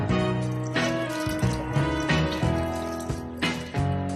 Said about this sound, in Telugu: ఇంకొంచెం వాటర్ తీసుకుందాం.